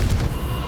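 Brief, loud burst from a Confringo blasting spell in Hogwarts Legacy, a sharp low boom with noisy crackle that fades within under a second.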